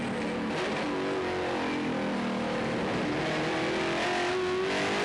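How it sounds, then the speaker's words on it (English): Onboard sound of an NZV8 V8 race car at Taupo Motorsport Park, the engine droning loud and close with rising and falling pitch as it shifts and accelerates, continuous with no talk. "On board with the race leader, Scott McLaughlin."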